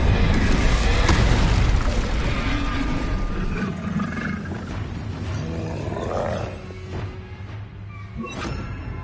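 The Incendio fire spell in Hogwarts Legacy bursts out with a loud, roaring whoosh and boom at the start, then rumbles and crackles as it fades over several seconds.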